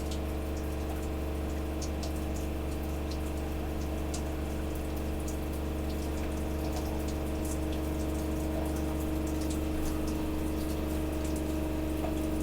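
A Gasland CG360LP water heater runs with its pump circulating water, a steady low hum and constant rushing flow with faint trickling detail, continuous and even, no voices.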